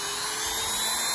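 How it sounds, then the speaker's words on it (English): A high-pitched Dremel rotary tool whines steadily at close range, drilling out a door for a smart lock, a continuous buzzing drill tone with no pauses. "my tool of choice will be this Dremel rotary tool"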